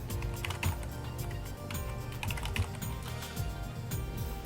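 Someone types a password on a computer keyboard, making a quick, close series of soft clicking keystrokes with uneven rhythm.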